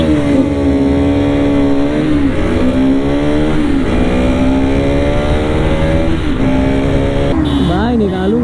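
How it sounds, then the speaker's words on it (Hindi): A Bajaj Pulsar RS200 engine screams at high revs at top end while racing a Pulsar NS200, a loud continuous whine rising and dipping through gear shifts, with another bike's drone underneath. "सो मैं चला रहा हूँ RS200 एंड हर्ष जो चला रहा है NS200"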